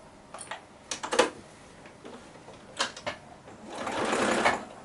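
Sewing machine making slow stitches at the corners of a self-binding quilted table runner, scattered single needle clunks and clicks, then a short smoother run of stitching at the end.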